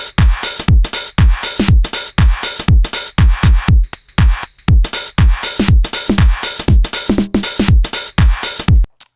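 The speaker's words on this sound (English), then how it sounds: "but then when we throw in the beat, it sounds like this." A house drum pattern from a 909 drum kit thumps in a steady four-on-the-floor kick with crisp hi-hats and snare hits, loud and upfront, carrying on alone for the whole stretch with a brief drop in the middle.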